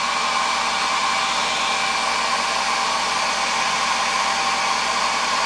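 A handheld hairdryer blows steadily on a Mosin rifle stock to soften Cosmoline, a loud, constant whooshing hiss with a fixed motor whine, close and unbroken for the whole stretch, without any talking.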